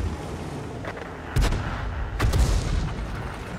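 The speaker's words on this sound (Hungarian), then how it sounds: "hallottuk a lövésből, hogy valószínűleg a KV-13-as mellé vághatott az arti" Artillery shots in World of Tanks, two deep booming blasts about a second apart over a low rumbling game ambience, with no speech.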